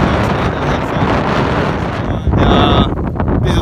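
Strong wind buffeting the microphone on a riverbank beside a fast, high-running river, a loud continuous roar with gusty surges and no talking.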